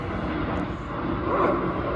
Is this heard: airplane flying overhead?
yes